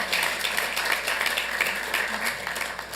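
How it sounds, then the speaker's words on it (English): An audience at a Santa Ana city council meeting gives a steady round of applause for Roquette Cafe and Bistro, a dense, even wash of many hands clapping with little else heard. "If we can give them a round of applause for that."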